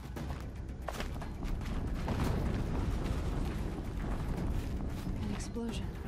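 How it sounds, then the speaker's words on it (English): Explosions and booming blasts in the video game Horizon Zero Dawn, a dense, sustained rumble of bursts filling the whole stretch at steady loudness, with a voice talking over it. "An explosion."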